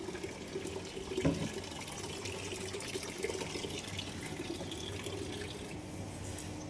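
Water runs steadily into a bucket with a constant, even rush and a few faint splashes, quiet and unbroken throughout, with no voices.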